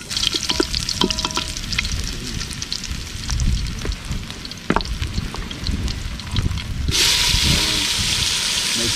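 Ginger frying in hot oil in a cooking pot for a conch stew, loud continuous crackling sizzle with scattered pops and stirring clinks, swelling into a brighter, harsher hiss toward the end.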